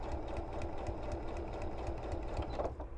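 A sewing machine stitches a straight line for foundation paper piecing, giving a steady, close, rhythmic mechanical whir with a fast needle pulse that runs for the whole stretch without any talk.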